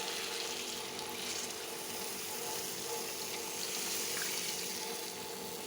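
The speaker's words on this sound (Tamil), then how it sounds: "இது கூடவே நம்ம குழம்புக்கு தேவையான அளவுக்கு தண்ணி ஊற்றிக்கலாம்." Water poured into a tamarind kuzhambu (curry) pot, a steady broad splashing and trickling rush that runs continuously throughout, close and fairly quiet with no voices.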